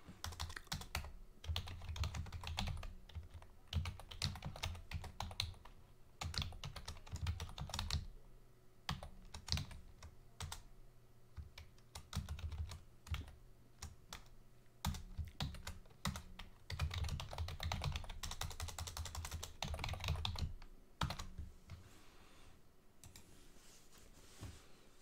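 Rapid typing on a computer keyboard goes on for about twenty-five seconds, with dense clusters of close, crisp key clicks broken by short pauses and a few louder taps, and no one speaking.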